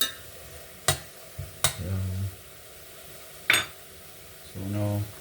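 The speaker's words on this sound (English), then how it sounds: "I'm just gonna let this saute for a little bit." Food sautés in a pan for a Jamaican West Indian dish, with a quiet background sizzle punctuated by loud utensil clanks, scraping stirs and brief low tonal hums nearby, with no speech over it.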